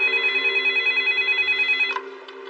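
A telephone rings steadily in a police lieutenant's command office, a continuous electronic bell trill that pulses rapidly before cutting off near the end, loud and close with no talking.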